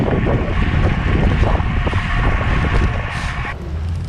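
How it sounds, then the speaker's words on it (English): Steady, loud wind buffeting the microphone while riding a Quick Pro AR:ONE road bicycle outdoors, a continuous broadband roar with gusts that swell and ease, no voices. "Even in this wind."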